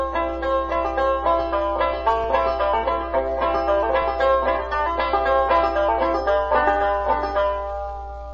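A 5-string banjo picks out the tune John Henry with hammer-on notes, bright plucked notes rolling steadily and close with no voices over them.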